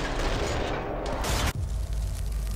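A video game explosion in Zombie Army 4 booms out as a loud burst of crackling blasts, then cuts off sharply into a quieter rumbling tail.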